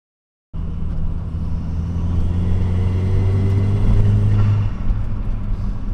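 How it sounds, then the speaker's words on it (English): A newly bought turbocharged car's exhaust starts up abruptly and holds a loud, steady droning rumble with a low humming tone, close by and without speech. No distinct turbo flutter stands out. "the exhaust scream or the freaking flutter"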